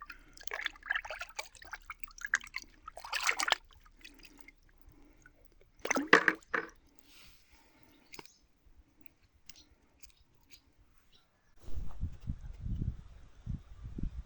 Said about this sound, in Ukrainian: звичайна водичка прополаскує від кислоти